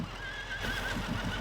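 A horse whinnies in the Farming Simulator 25 video game, a single drawn-out neigh that rises and then trails off, close and fairly loud, with faint hoof clip-clops and a steady background hum and no talking.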